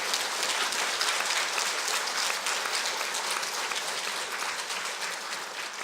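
A lecture audience applauds, a dense, even wash of many hands clapping together that carries on steadily with no voices above it.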